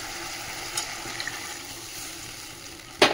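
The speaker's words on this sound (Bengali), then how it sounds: "জলটা দিয়ে দিই" Water goes into a pan of fish curry with a soft steady hiss and faint bubbling, ending in a sudden sharp burst of sizzling as more liquid hits the hot pan.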